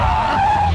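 A bus skids to a stop with one continuous, loud tyre squeal and a rough roar lasting under a second, heard close and alone.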